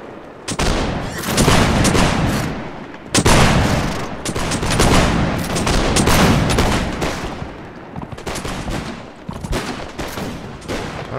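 Musketeers fire volleys in the Mount & Blade With Fire and Sword game, loud bursts of overlapping gunshots arriving in clustered waves with short gaps between them.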